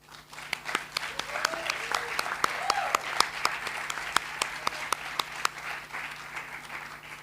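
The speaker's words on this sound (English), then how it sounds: "a big applause for our leader" Applause at an academic project conference in honor of a team leader, a modest scattering of individual claps with distinct sharp hits over a quiet room, moderately near and continuing evenly throughout.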